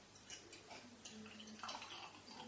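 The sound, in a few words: pouring Young's Double Chocolate Stout beer into a glass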